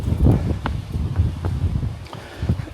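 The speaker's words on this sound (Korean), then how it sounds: "아이고 바람 분다" Gusty wind buffets the microphone on a rocky mountain ridge at Soyosan, Dongducheon, with low rumbling bursts rising and falling in uneven waves, close and fairly loud.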